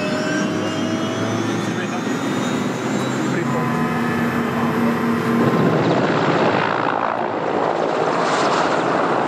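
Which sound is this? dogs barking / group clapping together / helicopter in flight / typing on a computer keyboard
helicopter in flight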